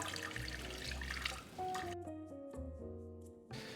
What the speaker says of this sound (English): And now we can add milk.